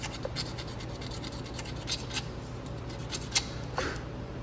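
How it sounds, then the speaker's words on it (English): A razor blade scraping flat across metal on a 1.6 Spec Miata radiator and thermostat housing, a run of fine, dry scratching strokes with small clicks, close and fairly quiet. "I'm just going to use a razor blade. Sometimes just putting it flat and scraping it on that metal."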